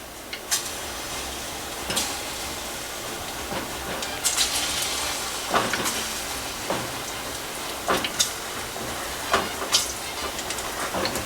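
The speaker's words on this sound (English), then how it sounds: "We got our pan nice and hot. Let's go ahead and throw these plantains in there." Plantains sizzling in a hot pan of grapeseed oil, a steady bright hiss with occasional sharper spits and pops, close and continuous.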